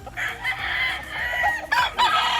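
A gamefowl rooster at a gamefarm crows loudly and close by, a drawn-out call followed by clucking and further crowing from nearby fowl, with no talk.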